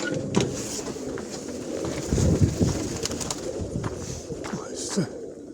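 Pigeons cooing nearby in soft repeated low calls, with rustling, wing flaps and faint background noise, no speech.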